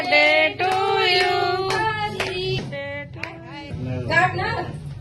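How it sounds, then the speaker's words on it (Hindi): Hands clap together at a home birthday party as the cake is cut, mixed under loud singing and chatter from several voices close by. "ताली बजाओ सभी लोग"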